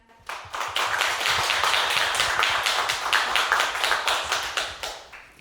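Audience clapping to open a Gwangju smart lifelong learning relay lecture, a brisk round of many hands that starts suddenly, holds steady and close, then gradually fades at the end.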